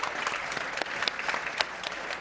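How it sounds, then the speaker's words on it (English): An audience at a leadership summit conference claps together, a brief, fairly quiet burst of steady applause with scattered sharper claps. "I'd like you to please give a really warm round of applause to Megan."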